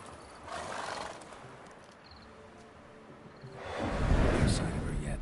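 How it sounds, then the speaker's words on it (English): Roach, a horse in The Witcher 3, neighs in fright at ghosts: a whinny rises early, then a louder, rougher snorting neigh follows near the end, with faint speech-like sounds around it. "Spooking my horse."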